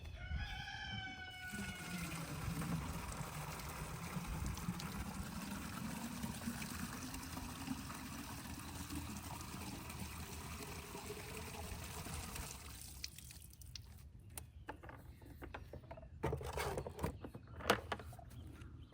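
Water from the chickens' waterer is poured steadily over newly planted tomatoes in a raised garden bed, a continuous close trickle and splash that runs for about twelve seconds, then breaks into short intermittent dribbles.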